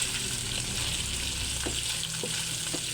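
Pork and purple string beans fry in a pan while being stirred, a constant close hiss of sizzling oil with several soft utensil scrapes, no talk.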